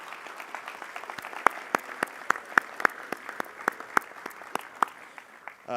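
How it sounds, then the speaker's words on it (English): Scattered applause from a small group at a scholarship award ceremony, sharp distinct hand claps popping irregularly for several seconds, fairly close. "another round of applause for the recipients."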